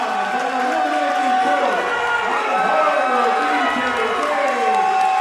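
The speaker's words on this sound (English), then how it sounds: "Listen to the crowd, man." A hometown crowd at a grappling superfight in Atlantic City roars steadily after a choke finish in overtime, a dense, loud wall of cheering and shouting that continues throughout with many voices blended together.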